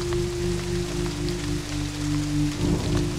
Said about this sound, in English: The rain hammers down.